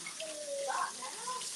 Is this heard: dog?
no